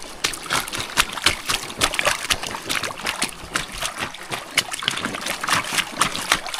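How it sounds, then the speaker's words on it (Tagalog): Boots are washed in a shallow stream, with close, repeated splashes and sloshing at an irregular, busy pace, wet and fairly loud throughout. "Makapaghugas ka ng bota dito sa sapa."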